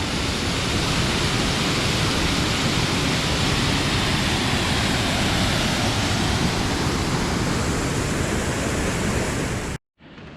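Waterfall cascading over rocks beside the Sky Pond trail in Rocky Mountain National Park, a loud steady broadband roar of pouring water close by, unbroken for nearly ten seconds before cutting out abruptly.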